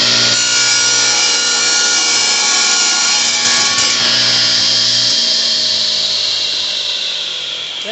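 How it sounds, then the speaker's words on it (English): A saw rips steadily through floor laminate, trimming an edge during a sink base floor replacement. It is loud, close and continuous for the whole stretch, tapering only slightly near the end, with no talk. "So I'm going to trim that off with the saw."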